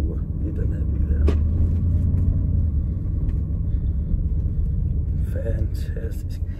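Audi SQ7 Quattro with a 4.0-litre TDI diesel engine on the move, a steady deep rumble of engine and road noise from inside the car, with a person speaking over it.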